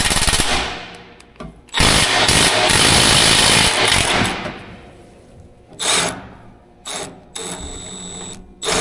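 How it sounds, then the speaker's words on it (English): Mechanical ratcheting and tool noise from a ratchet loosening a bolt while clearing out a barn, starting with a loud sustained burst and then breaking into short separate clicks and bursts. "This bolt needs to come off."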